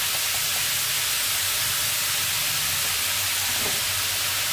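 Vegetables sizzle in hot oil in a pan, a steady broadband hiss that stays constant and fairly loud throughout, with no talking.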